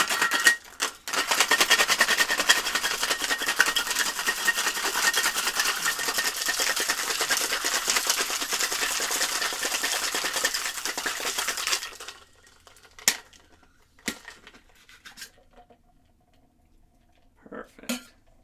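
A cocktail shaker packed with ice is shaken hard for about twelve seconds, a dense, loud, steady rattle of ice against metal, followed by a few sparse clinks and knocks.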